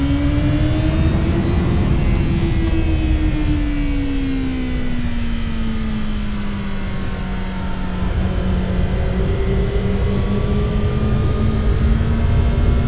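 A 2025 Honda CBR1000RR-R Fireblade SP sportbike on a race track, engine droning loud and steady at close range as it pulls away, its pitch sliding slowly down then rising again, no voices over it.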